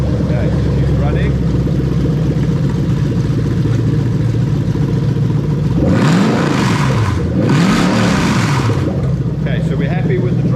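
A Toyota UZ-FE VVT-i V8 starts and settles into a steady idle, then revs twice in quick succession around the middle before dropping back to idle; people talk nearby.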